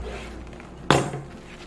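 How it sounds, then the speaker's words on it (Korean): A knife cuts a cabbage in half with a single sharp, crisp crunch and thud on a cutting board, close, following a quiet moment. "자, 양배추는 반으로 썰어 줄게요."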